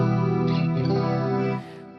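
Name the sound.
huge ambient reverb effect on Fractal FM9 guitar processor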